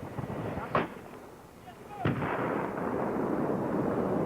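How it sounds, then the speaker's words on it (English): A 105 mm howitzer fired by a Marine crew at Camp Lejeune, North Carolina, lets off two sharp, booming blasts about a second apart over a steady, noisy outdoor rumble. "the 105 fires the standard 33-pound projectile with a bursting radius of 35 meters"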